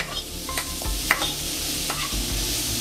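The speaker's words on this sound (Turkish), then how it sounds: "Aslında bir nevi mühürleme yapıyoruz." Chunks of meat sear in butter in a pan, with a steady close sizzle broken by scraping and stirring sounds as pieces are pushed around.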